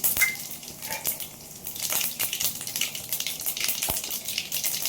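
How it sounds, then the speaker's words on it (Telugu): Mustard seeds, cumin and a little fenugreek crackle and splutter in hot oil in a pan, a dense continuous sizzle with sharp popping bursts, close and loud, no voices. "ఆవాలు చిక్కట్లాడాయి"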